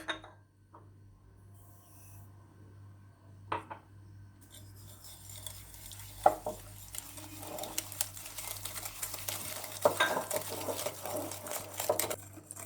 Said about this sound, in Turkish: Öncelikle 2 adet yumurtamızı ve 1 su bardağı şekerimizi iyice çırpıyoruz